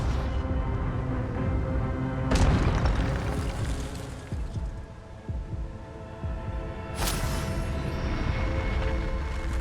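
Expelliarmus spell cast in Hogwarts Legacy, a loud booming magical burst with deep throbbing bass, two sharp impacts over a dense rumbling game soundtrack.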